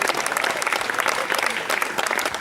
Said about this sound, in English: So one more round of applause for the brothers